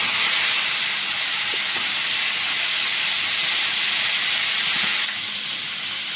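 Potatoes sizzle in a hot pan over a clay stove in the Sundarbans, a loud, close, continuous hiss of frying that stays even throughout and eases slightly near the end, with no talk.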